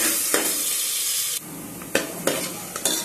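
Coriander and curry leaves dropped into hot oil for a potato and pea curry, a loud bright sizzle that drops back, then several sharp bursts of crackle as the pan is stirred, with no talking.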